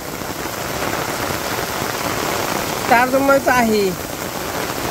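Steady rain pouring over a Bangladeshi village, an even close hiss of drops on surfaces, with someone briefly speaking over it partway through.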